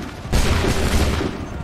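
A musket volley fired by a line of soldiers in Assassin's Creed 3 erupts as one loud, crackling burst with a rolling tail, heard alone after a brief lull.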